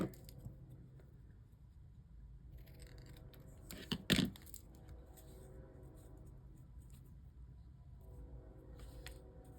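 Scissors trimming paper for a shaker card, with a quiet room before and after and one brief, crisp burst of snipping and rustling in the middle.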